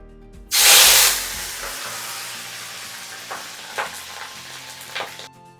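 Vegetables for a local burger hit a hot pan with a loud burst of hissing sizzle, then settle into a quieter fry broken by a few scraping stirs.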